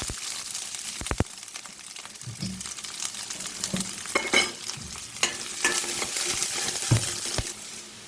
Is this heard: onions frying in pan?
yes